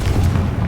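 A Confringo blast spell in Hogwarts Legacy goes off as one short, heavy, booming burst that fills the whole moment.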